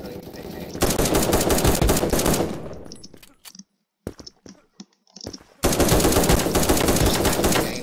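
An AK rifle fires long, loud automatic bursts in the Krunker.io shooter game, with a brief lull of near silence and a few isolated clicks before another sustained burst.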